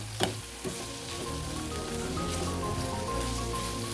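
Onion, green chilli and curry leaves fry in hot oil in a pan, giving a steady, dense sizzle with a couple of soft knocks near the start as they are stirred.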